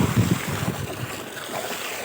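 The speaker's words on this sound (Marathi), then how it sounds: "हा पंप 3 HP 30 मीटर हेडचा आहे आणि हा 4:30 वाजता एवढं पाणी मारत आहे" A 3 HP solar water pump with a 30-metre head discharges water through a 2-inch delivery pipe outdoors, giving a steady, close rushing and splashing roar with no speech.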